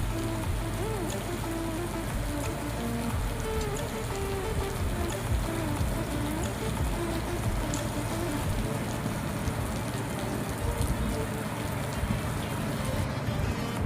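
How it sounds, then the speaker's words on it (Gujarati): Steady rain falls on a mango orchard, a dense even hiss of drops pattering on leaves and ground, constant and moderately close from start to finish. "અમારી વાડીએ વરસાદ ચાલુ થઈ ગયો છે"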